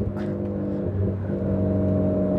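Renault Clio 4 RS Cup with a 200 hp engine and Inoxcar exhaust lapping the Nürburgring, a loud close-up engine drone that holds steady and then rises slightly in pitch as it pulls harder.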